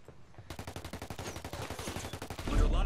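Rapid automatic gunfire in the game Ghost Recon Wildlands, a steady stream of sharp shots in quick succession, ending in a heavier low burst.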